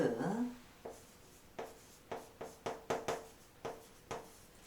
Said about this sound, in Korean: 단어를 써볼게요.